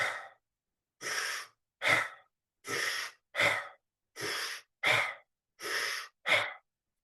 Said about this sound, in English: Do 30, 40 breaths. You're going to breathe in, watching me, and then let it go.